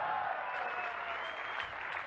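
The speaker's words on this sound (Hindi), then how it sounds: "ये चिल्ला रहे हैं, तालियां बजा रहे हैं, नाच रहे हैं" A seminar audience at a business meeting applauds and cheers, a steady wash of many hands clapping with shouts, fairly close and continuous for the whole moment.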